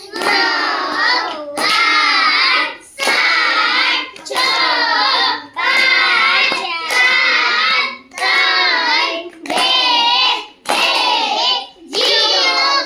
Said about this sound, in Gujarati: ચલો જોરથી ક્લેપ કરો